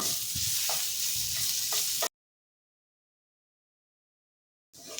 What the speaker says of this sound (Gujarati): તો લસણ આપણું અહીંયા સરસ સતળાઈ ગયું છે